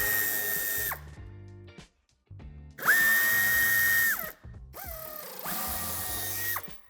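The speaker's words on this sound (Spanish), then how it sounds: "Empezaremos quitando los 6 tornillos de Torx de 25." A power drill driving out Torx 25 screws from the wheel arch of a 2016-2020 Audi A3 Sportback, with several loud, close whirring bursts of a few seconds each, some rising in pitch as the motor spins up, separated by brief pauses.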